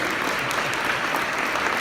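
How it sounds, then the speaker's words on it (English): A luncheon crowd claps for elected officials standing to be recognized, an even, sustained patter of many hands at moderate loudness throughout. "let's clap for whoever those might be"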